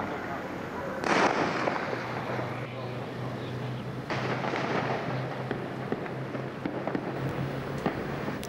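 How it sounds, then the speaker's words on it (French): Gunfire crackles in a street in Kinshasa during a military uprising in September 1991, heard from a distance as sharp bursts and scattered shots over a low hum, with a louder volley near the start and another midway. "ça tire sec, c'est pas des petites rafales"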